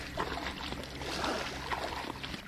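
Small waves from a passing boat's wake lap and wash against a lakeshore fishing spot, a steady close splashing and trickling of water with no talk.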